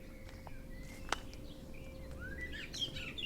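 Birds chirp and whistle in a garden on a summer's day, scattered short calls and thin rising notes over a quiet, steady outdoor hush, with one sharp louder chirp near the start.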